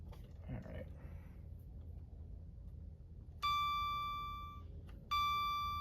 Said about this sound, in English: you'll see the gauges power up and you get the door chimes